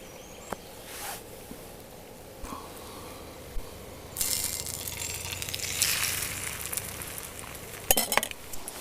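Egg-soaked bread frying in a pan over an outdoor camp fire gives a low, steady sizzle with occasional clinks and scrapes of a utensil, fairly faint, rising louder partway through.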